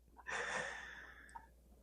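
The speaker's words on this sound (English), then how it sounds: "Giving me a thorough sniff." A dog sniffs at close range during a night check, giving one soft, breathy snuffling draw of air about a second long that fades out, faint and heard alone.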